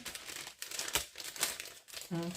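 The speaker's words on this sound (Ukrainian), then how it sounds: "Я беру такі зіп-пакетики" Plastic zip bags crinkle and rustle in bursts for a couple of seconds, close up, followed by a brief low hum or voice at the end.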